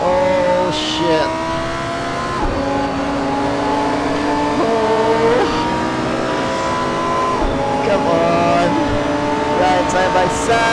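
A Porsche GT2 RS races side by side with other cars on a final lap in Assetto Corsa VR. Loud engine drones rise and fall as the cars shift and rev, with tyre noise underneath and excited talk over the top.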